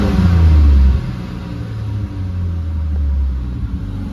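A turbocharged Ford Barra engine in a Nissan Patrol revs to about 3,000 rpm, a loud, close, deep rumble that swells in the first second, then settles into a steadier, lower drone.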